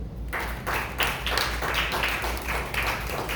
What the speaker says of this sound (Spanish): Aplaude a Cristo.